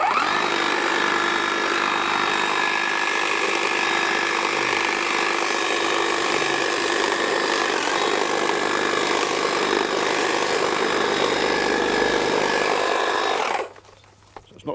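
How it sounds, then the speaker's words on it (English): Battery-powered hedge trimmer cutting vegetation, a loud continuous buzzing drone held steady for about thirteen seconds before cutting out abruptly. "got all of our battery-powered hedge trimmer. Good machine this is, and I'm just going to make a bit of room for me to get in there"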